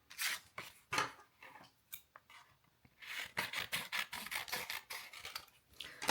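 Scissors trim dark craft paper being prepared for a Minty Cut mini cutting machine, a series of close, crisp snipping and rasping cuts coming in quick irregular bursts with brief pauses between.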